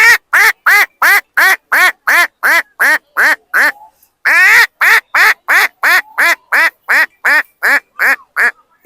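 A man vocally imitates a duck, producing a loud, close run of about twenty quick nasal quacks in steady rhythm with one brief pause midway, no other talk.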